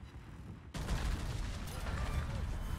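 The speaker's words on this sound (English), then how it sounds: "Main guns on Graf Spee." Graf Spee's main battery firing in a naval warship video game, a heavy booming burst that starts abruptly and rumbles on loudly as sustained gunfire noise.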